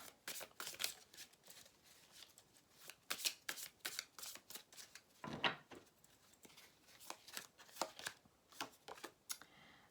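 Tarot cards are riffled and handled at close range in a steady run of soft, papery shuffling bursts, with a few sharper snaps as cards are drawn, quiet and with no voices.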